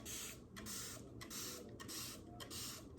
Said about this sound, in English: So usually I just spray it with this water.